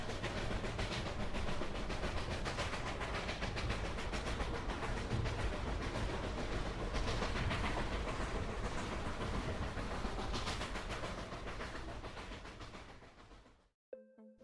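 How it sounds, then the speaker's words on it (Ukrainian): A train rolls along the rails with a steady rhythmic clickety-clack and rumble, loud and continuous before fading out abruptly near the end. "Тепер потяг може вирушати у подорож."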